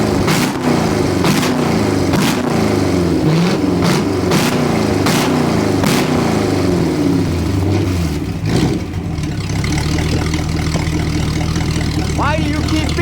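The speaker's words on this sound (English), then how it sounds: "This thing sounds pretty serious. This Magnum motor ain't no joke." A Dodge truck's Magnum engine, fitted in a lifted truck, revs hard in loud repeated bursts, then settles into a rough, throbbing idle, close and dominating with a voice heard briefly.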